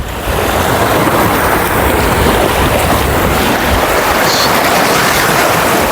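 Sea waves wash in a continuous loud roar by the shore, blended with heavy wind buffeting the microphone, with no talking over it.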